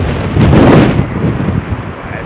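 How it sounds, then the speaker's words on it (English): A strong gust of wind from Storm Noa at London Heathrow airport buffets the microphone in a loud roaring rush that peaks and then eases. "There's a big gust"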